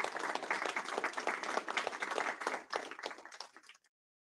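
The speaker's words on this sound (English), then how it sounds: "A round of applause to all." Audience applause at a signing ceremony for a space-economy partnership, steady crowd clapping at moderate level that thins out and stops abruptly near the end, leaving silence.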